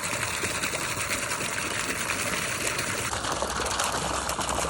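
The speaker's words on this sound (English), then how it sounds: "Got warm water running into the tub." Warm water at about 60 degrees runs steadily into a livestock tub to break up ice on a 14-degree day outdoors, a continuous close gushing rush with no talk.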